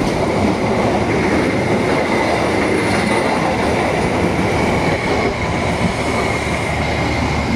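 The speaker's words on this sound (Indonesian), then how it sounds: "Dan ini bersilangnya sama Argo Parahyangan ya sobat." The Argo Parahyangan train passing close at a crossing on an Indonesian railway, a loud, continuous rumble of wheels on rails with faint high squealing throughout.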